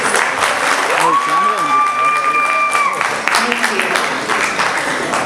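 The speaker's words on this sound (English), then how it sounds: "Let us all show our appreciation with one more round of applause, please." An audience applauds after a Kuchipudi dance performance, a dense wash of clapping running throughout under a speaker's voice.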